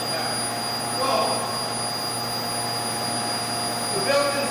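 A TAWI high frequency vacuum lift system runs with a steady, loud whooshing suction roar and a constant high whine, with a voice speaking over it.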